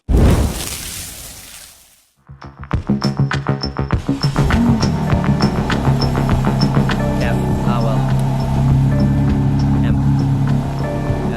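A BMW M4 Competition fires up with its exhaust flaps open, a sharp crackling start after a burst of noise, then a loud, close, rapid exhaust burble that settles into a steady rumble.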